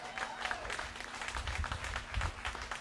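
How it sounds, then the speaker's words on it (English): Applause from a Whitestone Republican Club meeting audience, moderate and fairly steady, with scattered clapping and crowd noise and a faint tone running underneath. "Can I get a round of applause for that?"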